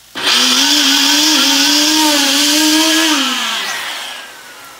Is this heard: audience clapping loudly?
no